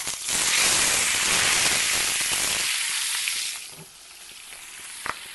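A Scotch fillet steak, already cooked sous vide, sears in a ripping hot pan with a loud, dense sizzle that fades to a quieter hiss partway through, with a couple of small clicks near the end.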